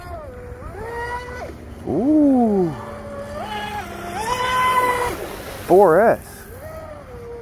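Oxidean Oxi-digger 34-inch pre-assembled wooden RC outrigger boat on a 4S setup, its motor whining and rising in pitch as it planes across the water, with loud sweeping passes and a person speaking briefly.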